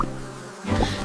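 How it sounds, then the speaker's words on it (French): A steady, close insect drone of bees buzzing fills the short stretch alone, swelling slightly toward the end. "les abeilles bourdonnent, récoltant du nectar"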